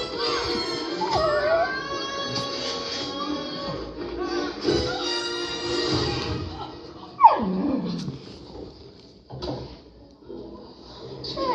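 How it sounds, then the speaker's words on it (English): A dog gives a run of yips, whimpers and drawn-out howling cries at close range, with some household clatter and a sharp knock partway through. "He barked at Frito."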